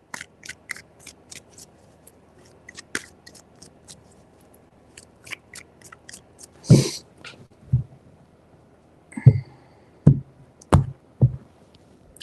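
Tarot cards are handled and shuffled in short bursts, a scattering of light ticks and flicks followed by several louder, sharper riffling snaps spaced apart near the end.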